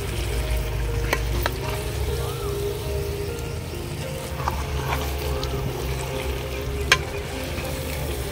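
Chicken pieces frying in oil in a pot, a steady low sizzle with stirring and occasional scraping clicks close by, a faint voice briefly in the background.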